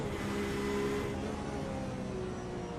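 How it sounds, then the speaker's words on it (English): A Porsche race car at the Interlagos circuit during a GT Masters three-hour event, its engine a loud, steady roar held close by for nearly three seconds with no voices. "listen to the sound of this Porsche as it goes around the Interlagos circuit"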